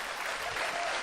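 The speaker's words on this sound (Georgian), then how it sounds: "აპლოდისმენტები" A studio audience at a Georgian television show claps together in a brief, even burst of applause, a steady hiss of many hands with no voices over it.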